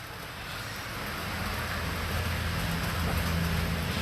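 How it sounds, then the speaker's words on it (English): Steady rain falls in a residential neighborhood, a dense, even hiss of drops on surfaces throughout, with a low rumble of a large truck building underneath toward the end. "can you hear the rain?"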